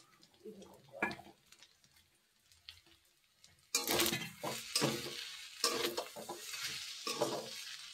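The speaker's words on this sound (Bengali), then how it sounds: "তার সাথে সাথে চলো ভাতটাও নেড়ে দিই।" Rice is stirred in a frying pan. Soft scraping comes first, then louder close scrapes of the spatula mixed with sizzling, in repeated strokes.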